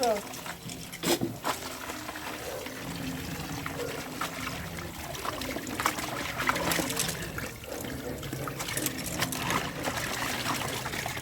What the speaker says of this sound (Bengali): একটু হালকা করে সার্ফ দিয়ে আর কি ধুয়ে দেবো